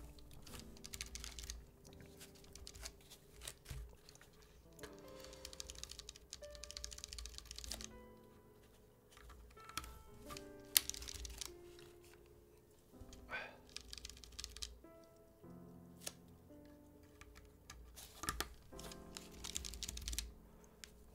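Rapid, steady typing on a mechanical keyboard, dense clacky keystrokes running continuously at close range with a few brief pauses and no talking.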